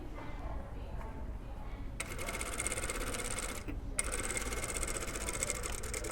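A sewing machine stitching a hem on a garment, a steady rapid mechanical whir that starts after a low background hum, pauses briefly, then resumes at a constant even pace.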